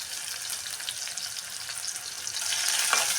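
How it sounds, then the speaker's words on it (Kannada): Onion fries in hot oil for a village-style black-eyed pea dish, a dense, close sizzle that swells louder toward the end, with a light scrape partway through. "ಇವಾಗ ಈರುಳ್ಳಿ ಫ್ರೈ ಆಗಿದೆ"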